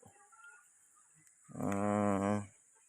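A single hen at feeding time gives a drawn-out, nasal cluck-call lasting about a second, preceded by faint scattered clucks from other chickens and soft background noise.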